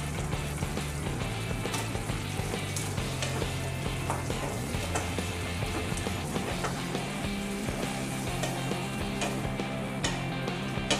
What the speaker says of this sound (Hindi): जिसमें ये बॉल्स हम डालेंगे